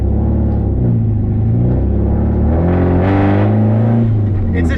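A loud, rumbling drift car exhaust on a freeway drones continuously, rising in pitch as the engine revs up and settles back down, close and dominant throughout.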